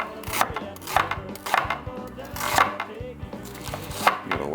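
A knife chopping onion on a cutting board, julienned for a Cajun red gravy, with a steady rhythm of about nine crisp close thuds, each with a short slicing crunch, and no talking.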